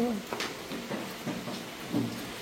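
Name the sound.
rain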